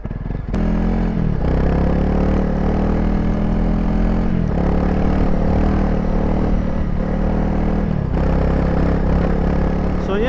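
A Honda CRF300L dual-sport motorcycle rides through a Finnish forest at night in winter, its single-cylinder engine droning loudly and continuously up close, with a few brief dips in pitch from gear changes or throttle shifts.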